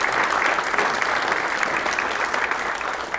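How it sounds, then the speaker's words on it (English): Steady audience applause fills a conference room at a CFA Society of Atlanta event, a dense, even wash of many hands clapping at once that carries on without a break. "So maybe we just give them a quick round of applause"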